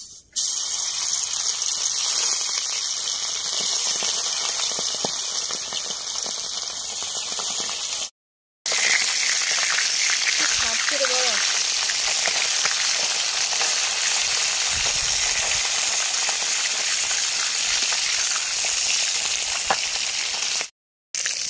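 Bata fish fry in hot oil in a wok, giving a loud, steady crackling sizzle that carries on with no let-up apart from two very short breaks.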